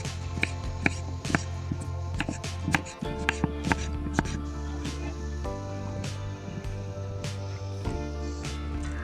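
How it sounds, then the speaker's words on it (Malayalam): Sharp knife taps on a cutting board while chopping beans, okra, tomato, eggplant and onion for Kerala-style sambar, a steady run of close, crisp strikes over a low continuous hum. "ഇനി നമുക്ക് ഇതെല്ലാം കൂടെ ഒന്ന് അരിഞ്ഞ് കഷ്ണങ്ങളാക്കി എടുക്കാം."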